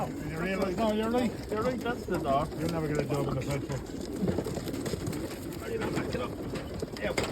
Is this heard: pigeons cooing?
yes